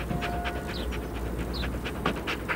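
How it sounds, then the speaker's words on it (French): A dog panting steadily with a few thin, rising whimpers over a constant low background rumble, heard close and without any talking. "Elle a décidé de commencer ses vacances par une promenade avec le chien Inouk."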